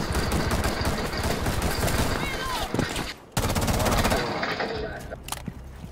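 Rapid automatic gunfire in the tactical shooter game Rainbow Six Siege, dense continuous bursts of loud shots with a short gap midway, then more firing tapering off, under excited player talk.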